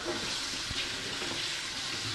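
Cold tap water splashes steadily over a trout in a sink, a continuous close hiss with small irregular splatters.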